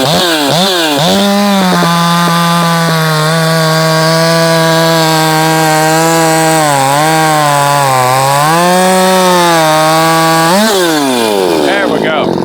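A ported Shindaiwa 600SX chainsaw held at high revs, its engine limited by the coil, a loud buzzing drone that wavers and dips slightly, then rises and falls away at the end.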